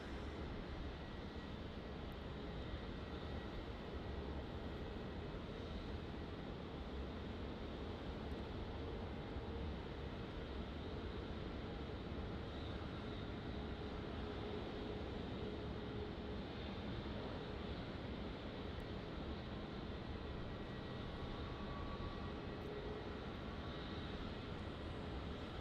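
A Qantas airliner at Melbourne Airport gives off a distant, steady jet roar that stays level and unbroken for the whole stretch, faint against the open-air background.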